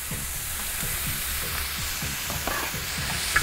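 Vegetables with garlic and salt sizzle steadily in a disc pan over an outdoor fire, with repeated scraping stirs at a steady pace, close and alone.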